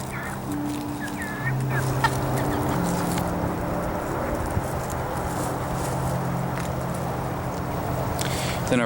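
Older farm chickens clucking and murmuring steadily throughout, with occasional higher calls over a constant outdoor background, fairly near and moderately loud.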